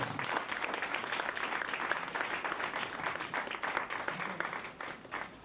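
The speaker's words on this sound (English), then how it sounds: "Let us all give her a really round of applause." A graduation ceremony audience applauds, a dense, steady wash of many hands clapping that carries on throughout, with a few faint voices underneath.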